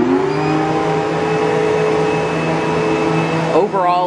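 A Kenmore upright vacuum cleaner runs steadily and close, a loud sustained motor whine with a tonal hum, and a brief pitch shift near the end as the machine is moved.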